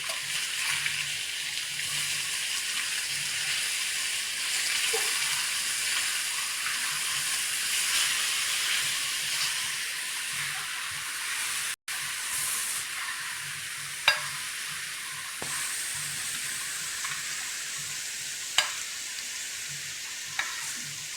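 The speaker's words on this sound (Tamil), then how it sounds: "இப்போ சிக்கனை திருப்பி போட போகிறோம்." Chicken pieces fry in a pan for a chicken fry, giving a steady close sizzle and hiss throughout, with a brief break midway and a few sharp clicks and scrapes as the pieces are turned.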